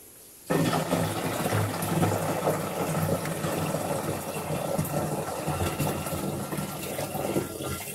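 Water suddenly bursts out of a pump beside a stream and keeps gushing in a loud, steady, rushing splash after a brief quiet start, with no voices over it.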